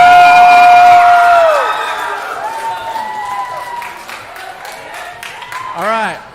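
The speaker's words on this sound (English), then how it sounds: "Give them a round of applause." Applause and cheering from a crowd at a church AWANA awards night, loud at first then thinning into scattered clapping and whoops, with a voice speaking over it and a sharp cheer near the end.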